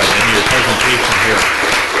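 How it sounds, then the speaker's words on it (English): Applause at a city council meeting for a team's season, loud, dense continuous clapping from a room full of people, steady throughout with a faint murmur of voices underneath. "I think we should give you a round of applause for the wonderful season"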